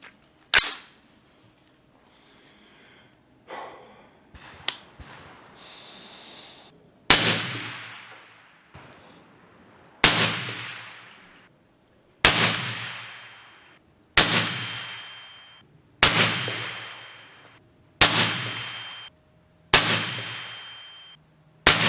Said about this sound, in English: I'm going to shoot a 10-round group this time